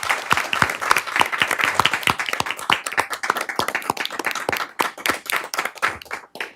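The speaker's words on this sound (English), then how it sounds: "please give all our first responders a round of applause" A council meeting audience applauds first responders with a burst of distinct, sharp hand claps, close and uneven, tapering into scattered claps over several seconds.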